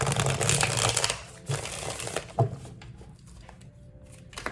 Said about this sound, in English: Let me go ahead and shuffle these cards for you.